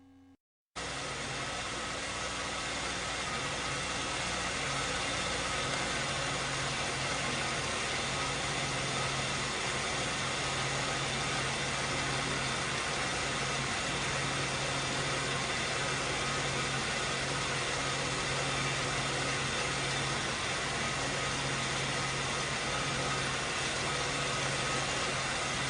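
A 1995 Oldsmobile engine idles steadily throughout a linear EGR valve test, giving a continuous, even hum with a broad hiss and no clear change in pitch.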